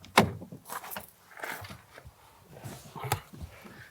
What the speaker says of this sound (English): The door clunks shut with vault-like quality